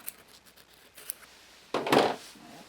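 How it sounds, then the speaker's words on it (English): Scissors snip embroidery threads close by: a few faint clicks early on, then a louder, longer cutting scrape near the end, with no talk. "I have to take the hoop off, cut off threads."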